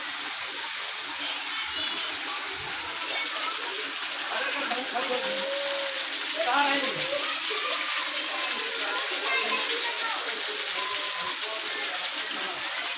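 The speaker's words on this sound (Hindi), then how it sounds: "ये जबरदस्त पानी बह रहा है भाई" Heavy village rainwater rushes and flows strongly in a steady, broad wash of water that keeps going the whole time at moderate loudness, with faint voices mixed in.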